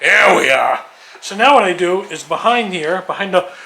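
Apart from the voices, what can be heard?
None of the usual background noises is heard.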